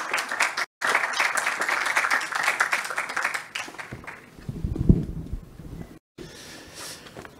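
A forum audience in Lima applauds engineer Roque Benavides as he rises to give a mining forum's opening words: sustained clapping for about three seconds, then dying away into low room noise and movement.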